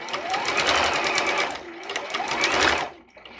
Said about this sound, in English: usually the faster you push on your foot pedal,